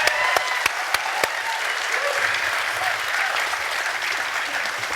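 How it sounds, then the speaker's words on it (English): Audience applause for a guest at a recovery conference session, a steady broadband wash of clapping with a few sharp louder claps near the start, holding evenly across the whole stretch without pause. "So you give me a round of applause, please, for our guest."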